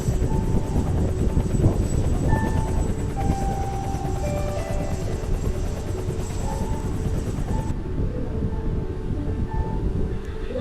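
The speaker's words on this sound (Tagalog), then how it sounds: "Helicopter naman." Steady loud whir of a helicopter in the video game Barry's Prison, a continuous rotor and engine drone that holds for about ten seconds and then eases slightly near the end, with no talking over it.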